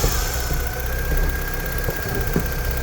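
A low-mileage Vauxhall Cavalier engine idles steadily and evenly with no misfires, a constant near rumble with faint ticks and no talk over it.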